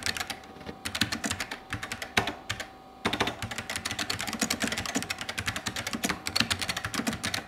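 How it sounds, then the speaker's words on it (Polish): Clicky typing on the keyboard of a retro suitcase-style portable computer, a close, steady patter of keystrokes with a brief pause near the middle and no voices. "posłuchajcie, jak fenomenalnie brzmi ta klawiatura"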